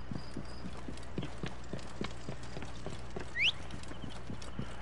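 Horse hooves clip-clop at a steady trot in Assassin's Creed Origins, a regular rhythm of soft thuds over game ambience with a brief whistle-like cry near the end.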